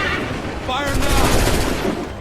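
A volley of musket fire in Assassin's Creed 3 erupts as a dense, loud crackle of overlapping shots lasting about a second and a half, with a commanding voice shouting over the start.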